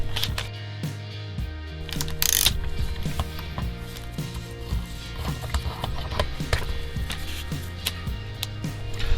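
A ratchet on a 24mm socket undoes the centre nut of a Porsche 911, Cayman or Boxster headlight bezel in a run of quick, close clicks over a low steady hum.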